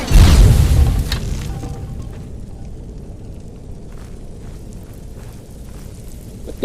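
Fire traps erupt in a Skyrim dungeon with a loud, close whooshing burst of flame, then settle into a lower crackling rumble that fades over several seconds.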